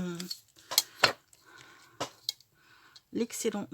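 Excess plastic is cut off with several sharp snips and clicks spaced irregularly, close by, with a person talking in between.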